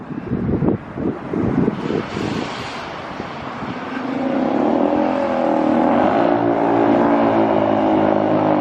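A 2023 Honda Grom motorcycle accelerates away with a choppy, rasping exhaust, then settles into a steady, droning engine note mixed with wind buffeting the microphone.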